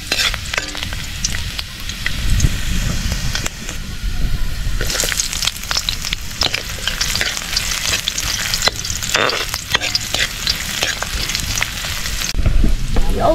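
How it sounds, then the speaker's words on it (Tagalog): Garlic frying in a hot pan for a seafood dish with crab and shrimp, giving a steady loud sizzle with stirring and scraping noises throughout and no talk. "Lagay natin ng bawang."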